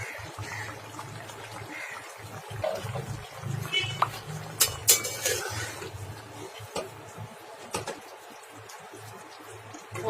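Thin fish curry is poured from a cooking pot, irregular liquid splashing and trickling that swells and fades over several seconds, fairly close, with faint background noise.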